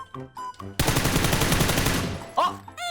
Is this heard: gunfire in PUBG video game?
yes